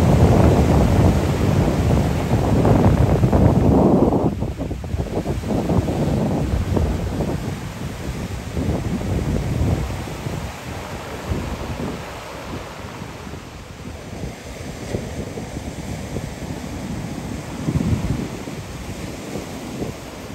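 Ocean waves wash onto the shore of Maui, a steady roar of surf swelling and receding, with gusty wind buffeting the microphone throughout and no voices.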